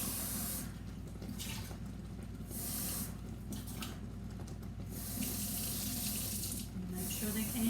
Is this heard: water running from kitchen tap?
yes